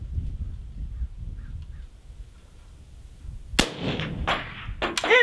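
A PSL54 rifle fires at distant targets, with one sharp, loud shot cracking out near the end of a quiet stretch, followed by a few fainter echoing reports.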